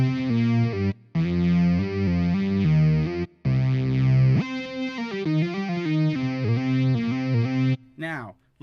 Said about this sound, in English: Except until you put it through Cali Reverb. Now, I've got this fired up exactly as it is. I haven't changed any of the default settings,